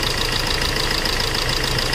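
A Hyundai diesel engine with injector misfire idles loudly and steadily at close range, its uneven, knocking rumble pulsing with a rough vibration.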